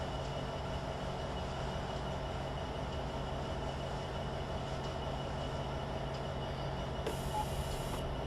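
A train rumbles steadily along the track in the video game Train Simulator 2015, a continuous dense roar of wheels and engine with no pauses, loud and close throughout.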